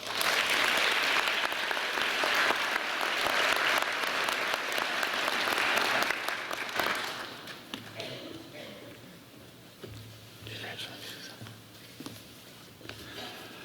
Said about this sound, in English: let's all give a round of applause for these students and for their parents